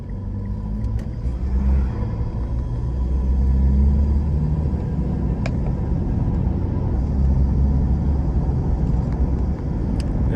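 A car pulls away from a stop under automatic transmission, its steady low engine rumble and road noise building and holding throughout, close and continuous with no voices.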